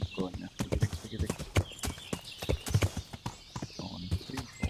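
Horse hooves clip-clop in an uneven trotting beat in the video game Kingdom Come: Deliverance, close and fairly loud, while people talk over them.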